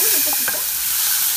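Onion, sweet pepper, tomato and cilantro frying in olive oil in a pan, a steady loud sizzle with a few stirring scrapes, with no voices over it.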